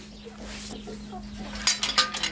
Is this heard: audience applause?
no